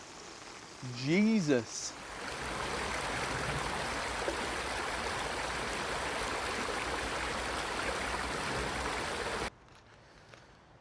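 Steady broadband rain drums on a tent in the woods through the whole stretch, loud and continuous, with a startled voice at the beginning before the downpour cuts off near the end.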